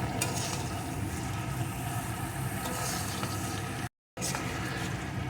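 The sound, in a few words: stirring potato and pointed gourd frying in pan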